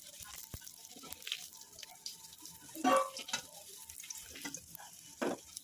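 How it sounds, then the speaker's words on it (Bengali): Potato pieces fry in hot oil in a wok, giving a soft, steady sizzle broken by a few sharper stirring clatters, close by with no talking. "প্রথমে কড়াইতে কিছুটা পরিমাণ তেল গরম করে কয়েকটা টুকরো করে কাটা আলু ভেজে নিলাম"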